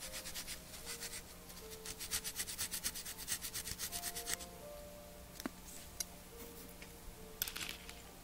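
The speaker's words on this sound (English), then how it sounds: "Just kind of wiping it off with this towel" A towel rubbing residue off a toy being primed and painted in a workshop, a quiet run of quick scrubbing strokes followed by a few faint knocks and scuffs.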